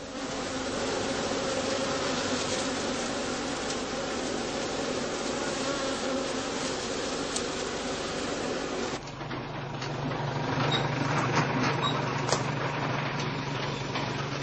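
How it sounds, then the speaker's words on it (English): Honeybees swarm and buzz at straw skep entrances on open heathland, a dense continuous drone of many wings that stays steady throughout, with a lower hum joining in partway. "This enables the bees to orientate on their first foraging flights early the following morning"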